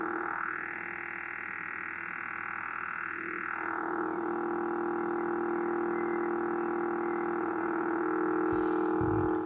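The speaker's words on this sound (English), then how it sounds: "Looks like jamming, maybe the woodpecker." A steady buzzing tone with a repeating pulsed texture, like a radio jamming signal, droning on continuously with a brief shift near the end.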